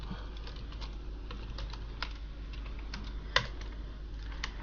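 Steady, fairly quiet clicking of computer keyboard keys as code is typed for an Android app, with irregular keystrokes and one sharper tap standing out, over a low hum.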